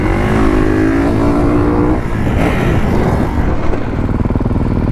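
A Kawasaki KX450F dirt bike accelerating hard through the gears, a loud close engine roar rising in pitch with a shift break around two seconds, then climbing again.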